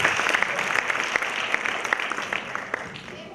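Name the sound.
applause for a child at a quiz contest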